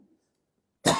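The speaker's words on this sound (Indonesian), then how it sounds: "Mohon maaf Pak, ini batuk nih." A single short, sharp cough bursts out loudly and close after near silence, during a religious lecture.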